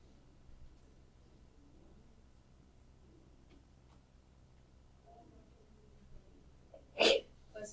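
A single sharp sneeze bursts out near the end in a quiet classroom, close and loud against faint ticking and background hush.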